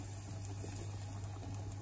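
Pasta boiling in a pot of water at home, a steady dense bubbling and hiss close up with a low hum underneath, no talking.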